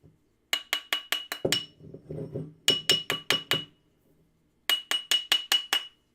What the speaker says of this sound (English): So put it back into the mandrel. Let's work harden it. Give it some good taps.